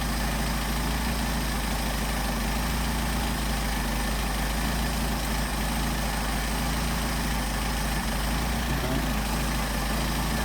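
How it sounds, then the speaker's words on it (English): A car engine fed by Solex 44PHH carburetors idles steadily at about 700 RPM, a loud, continuous low rumble with a dense, unchanging texture held close throughout, with no voices. "we got 700 RPM idle"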